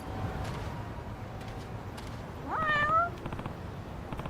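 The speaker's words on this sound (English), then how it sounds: "Hey there, kitty. Nice to meet you." A cat meows once in the video game Lost Judgment, a clear rising-falling cry near the middle, over a quiet ambient game background.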